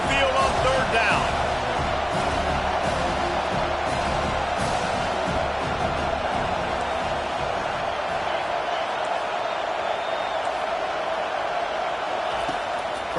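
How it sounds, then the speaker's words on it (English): A home crowd at a Clemson college football game roars on third down as the defense tries to get off the field, a broad sustained stadium din under continuous play-by-play commentary. "Here comes this home crowd as the defense tries to get off the field on 3rd down."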